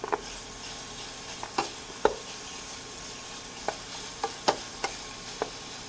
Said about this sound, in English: And you can let it sit there and cook for a little while, stirring occasionally.